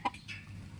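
A single short cluck from a chicken caught in the Malaysian jungle, close and fairly loud, followed by quiet background.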